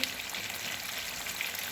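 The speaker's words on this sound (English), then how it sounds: "As you can see, I've started frying my chicken" Steady, faint sizzling and crackling of chicken frying in a pan for Nigerian stew, continuous with no talking.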